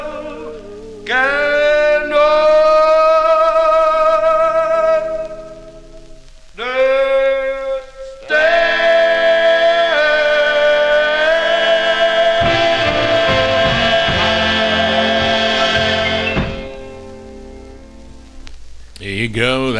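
1955 doo-wop record on Chess Records, its closing stretch of smooth harmonized vocal group singing over soft backing, loud and full on an old 45 pressing with a light surface hiss.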